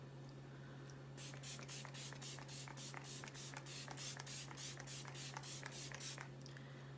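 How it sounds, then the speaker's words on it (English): Many short, sharp bursts of makeup setting spray in quick succession, about a dozen hisses in a steady rhythm, close and alone over a faint steady hum. "I'm gonna go ahead and just do a little setting spray."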